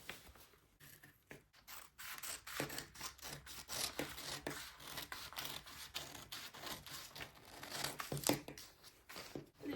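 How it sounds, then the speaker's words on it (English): Scissors cut a corset pattern along a line, giving quiet, close snips and rustling paper or fabric in an irregular rhythm with short pauses. "You are going to cut this line"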